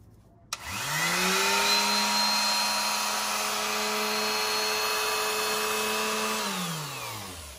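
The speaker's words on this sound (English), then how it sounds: "You want to sand both the front and the back, but you don't want to take off too much material." An electric power sander buzzing steadily as it sands small wooden puzzle pieces, starting abruptly, holding a loud even whine with a low motor hum for several seconds, then winding down as it slows near the end.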